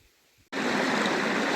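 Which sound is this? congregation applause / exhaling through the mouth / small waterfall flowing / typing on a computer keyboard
small waterfall flowing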